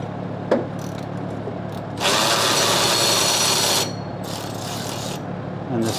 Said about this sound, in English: It goes to a bolt that Andrew's gonna get with the world's smallest extension.